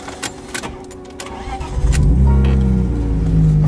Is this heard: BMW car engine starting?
yes